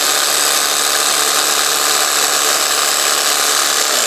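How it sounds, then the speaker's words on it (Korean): Cordless jigsaw idling with its blower mode on, not cutting, giving a loud, steady high-pitched mechanical whir throughout. "송풍 모드를 켜놓고 지금 공회전을 한번 해볼게요"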